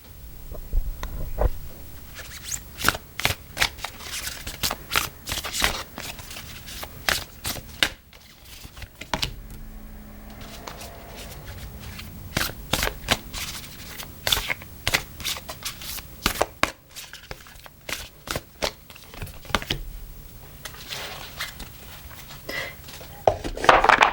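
Oracle cards are shuffled by hand in quick repeated bursts of riffling and slapping, close and crisp, separated by brief pauses, with a voice talking at times.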